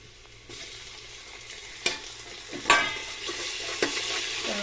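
Tomato fries in oil in a pan, sizzling steadily up close. Louder frying starts after a quiet moment, and a few scrapes and clinks of a utensil stirring the pan break in now and then.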